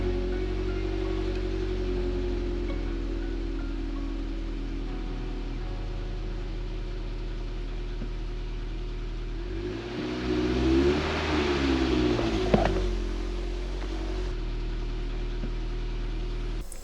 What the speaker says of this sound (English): I'm going to start the engine and take some live readings